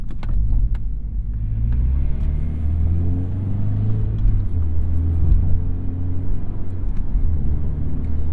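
A manual car engine drones loud and close inside the cabin through a heel-toe double-clutch downshift into fourth, its low rumble shifting pitch as revs rise and fall, with steady road noise throughout.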